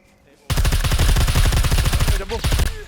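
Rapid automatic gunfire in the survival game SCUM, a loud, dense stream of shots rattling steadily for over two seconds after a brief quiet start, with faint voices in the background.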